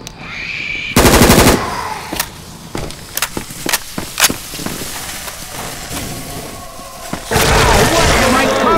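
An HK416 rifle fires in the Left 4 Dead 2 video game: loud, close automatic bursts open and close the passage, with scattered single shots and impacts between them and voices talking over the action.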